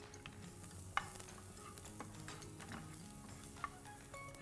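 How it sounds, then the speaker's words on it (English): Onion and garlic fry in olive oil while being stirred, a soft, quiet sizzle with a few light utensil clicks against the pan. "Give it a stir."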